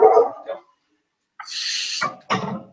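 A dog barks indoors in short, close bursts separated by a brief silence, with a sharp high whine or yelp between the barks.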